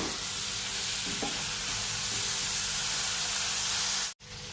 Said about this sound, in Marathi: आता आपल्याला वांगे आणि बटाटे व्यवस्थित मसाल्यात परतवून घ्यायचे आहेत